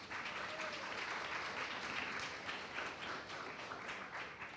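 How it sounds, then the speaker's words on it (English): Sustained audience applause from a seminar crowd at a student career event, dense steady clapping filling the whole stretch without a break. "Please give them a round of applause."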